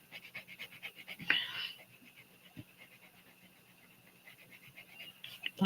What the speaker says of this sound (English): Loud, disgusting noises coming from my dog.